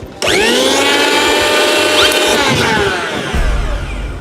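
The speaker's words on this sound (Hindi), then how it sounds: "पूरी मिक्सी निकली है, मिक्सर सब कुछ है इसमें, देखो इसको भी चेक करेंगे, सब चलना जरूरी है।" A kitchen mixer grinder is switched on and run, a loud, steady high-pitched motor whine with a rising tone, shifting into a rougher rattling whir near the end, no speech.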